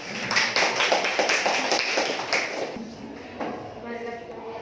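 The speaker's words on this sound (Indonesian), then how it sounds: "Tepuk tangan dulu ya." Classroom applause from students, a loose patter of hand claps for a few seconds that fades out, with voices chattering during and after.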